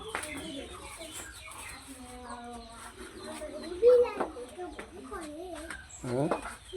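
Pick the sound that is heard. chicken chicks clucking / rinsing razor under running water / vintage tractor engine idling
chicken chicks clucking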